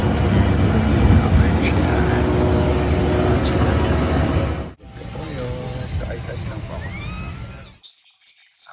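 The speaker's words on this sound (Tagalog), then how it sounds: "So, dito na kami sa loob ng aeroplano." Steady broadband roar inside an airplane cabin fills the first half, then drops to a quieter hum with faint background chatter and clinks before fading to near silence.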